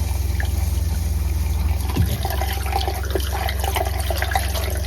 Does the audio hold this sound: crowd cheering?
no